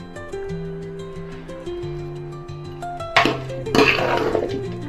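A spoon stirs wheat lapsi with jaggery in a cooking pan, giving a few short metallic scrapes and clinks near the end over steady background music.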